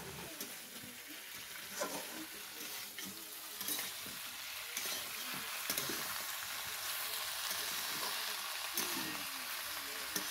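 Pork fries in a pan with a continuous faint sizzle and occasional soft stirring scrapes, low and steady throughout.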